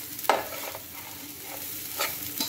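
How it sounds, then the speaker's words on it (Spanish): Rice browning together with dried nuts in a pan gives a steady soft sizzle, broken by a few sharp stirring scrapes near the start and toward the end. No voices. "Que se dore el arroz junto con los frutos secos."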